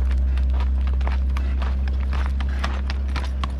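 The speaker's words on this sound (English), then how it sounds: "That's a hard-working horse." A horse's hooves clip-clop at a steady trot on a road, crisp close rhythmic strikes over a constant low rumble.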